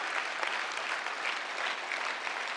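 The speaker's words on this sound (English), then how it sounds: "Give yourselves a round of applause." A crowd claps continuously, a dense even wash of applause at moderate volume with no pauses or voices standing out.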